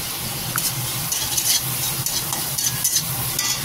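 Chopped onion frying with salt in a pan: a close, continuous sizzle with soft scraping and stirring bursts recurring throughout, no voices.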